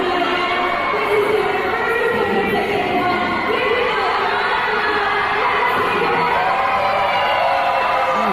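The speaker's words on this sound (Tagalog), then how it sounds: "Grabe sigawan guys." A huge crowd at a KCON 2024 K-pop concert screams and cheers continuously, a dense wall of high-pitched shrieks and whoops with no pauses.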